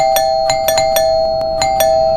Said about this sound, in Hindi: कौन पागलों की तरह घंटी बजा रहा है?